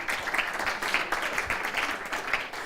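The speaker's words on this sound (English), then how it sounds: "a round of applause for that" A short burst of steady clapping from a small audience, brisk and fairly close.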